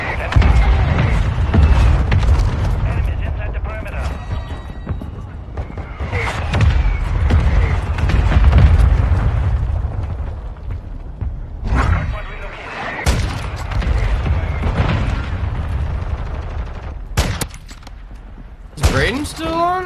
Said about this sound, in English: Those mortars are fucking deadly.